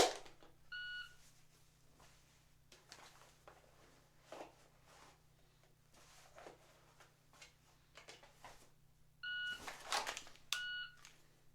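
Two short, bright electronic beeps from a shot timer sound against a quiet room hum, one near the start and one near the end, with small handling noises between them.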